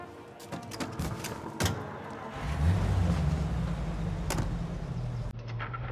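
A car in the video game Mafia rumbles to life after a few clicks and door sounds, settling into a low, steady engine drone as it drives.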